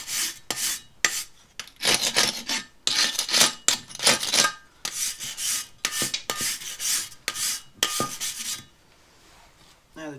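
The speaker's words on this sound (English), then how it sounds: "Just give the plate a rub off." A steel hitch plate on a Massey Ferguson 35 tractor rubbed off by hand, giving close, loud rasping strokes in a steady back-and-forth rhythm that stops near the end.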